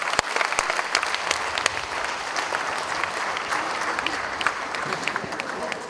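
Dense, sustained applause fills the room as an audience at an annual meeting applauds the Vice President, a continuous wash of many hands clapping at once.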